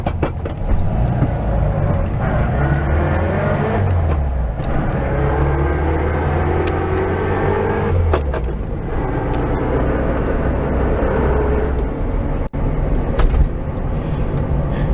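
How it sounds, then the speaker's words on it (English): A VW Beetle transmission with a suspected failing main bearing gives off a loud, pronounced whine over continuous mechanical running noise, with the pitch shifting up and down as the speed changes. "rather loud, pronounced whine that it has, which I believe is probably going to be the main bearing"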